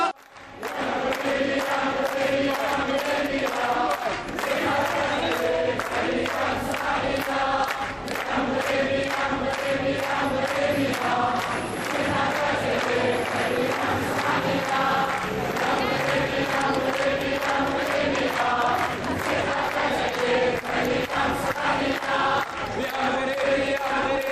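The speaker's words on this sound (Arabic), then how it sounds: "وكيف نردوا جميع مع الشعار اللي ديال المسيره لا للدساتير في غياب الجماهير" A crowd on a 2011 street march in Settat chants a slogan against the constitution. The massed voices carry on continuously and loudly, with rhythmic rising and falling phrases.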